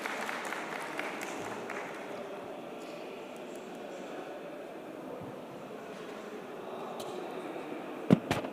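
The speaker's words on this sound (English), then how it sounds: "Please welcome him with a big round of applause." An audience at an agri-food tech global investor relations and meetup event applauds to welcome a speaker, a steady, soft wash of clapping that holds evenly throughout, with a couple of sharper knocks near the end.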